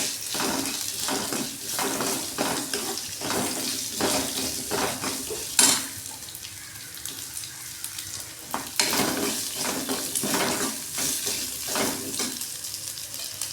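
Grated coconut is sautéed in a hot pan for curry leaf chutney, with a continuous close sizzle broken by repeated spoon stirs, scrapes and a clear metallic clink against the pan.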